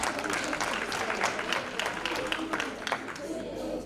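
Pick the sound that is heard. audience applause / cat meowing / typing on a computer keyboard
audience applause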